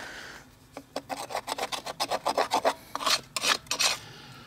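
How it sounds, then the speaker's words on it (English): Caked mud being scraped out of a vehicle tire, a close series of short, rasping strokes in a quick rhythm that grows louder, followed by a few harsher scrapes. "And it's just trying to scrape it all out."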